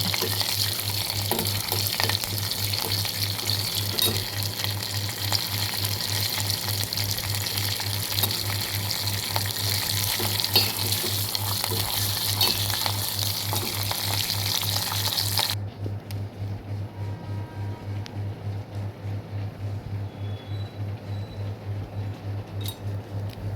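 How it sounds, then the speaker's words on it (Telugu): Tempering spices and dried red chillies fry in hot oil for a sesame tomato chutney, giving a steady loud sizzle and crackle that continues alone throughout, with a faint low hum underneath and the bright hiss dropping away near the end. "తాలింపు దినుసులు వేయించుకోవాలి ఎండుమిరపకాయలు ఇవి వేగిన తర్వాత వేస్తే నల్లగా అవ్వకుండా ఉంటాయి"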